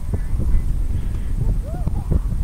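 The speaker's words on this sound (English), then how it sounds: "Grey horse approaches the roll top" Grey horse's hooves thud on turf during cross-country jumping training, a quick uneven series of soft clip-clop beats under a steady outdoor background, with a commentator talking over it.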